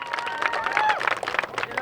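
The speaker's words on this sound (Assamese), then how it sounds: "এইটো কিন্তু শুদ্ধ উত্তৰ এটা হাত চাপৰি হৈ যাব লাগে এওঁলোকৰ কাৰণে" An audience at a book fair in Bilasipara breaks into a short round of applause, dense, bright clapping lasting under two seconds with a faint voice beneath.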